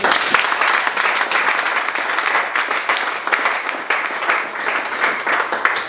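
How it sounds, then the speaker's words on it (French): A church congregation applauding together for the glory of the Lord, steady dense clapping filling the room without pause, loud and close. "Est-ce qu'on peut acclamer pour la gloire du Seigneur?"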